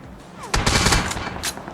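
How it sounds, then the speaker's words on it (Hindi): Gunfire in a battle royale video game, a loud sustained burst of close automatic shots that starts abruptly and then tapers off, with no talking. "मेरे पे फायर आती है"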